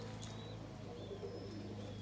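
Indian fantail pigeons cooing softly in a loft with their young, a steady low murmuring coo running throughout, with faint higher chirps drifting over it.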